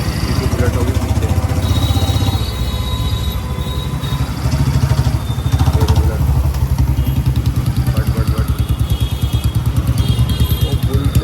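Royal Enfield Bullet motorcycle engine with a steady, loud low thumping beat that runs throughout on the road, with wind noise around it and someone talking over it.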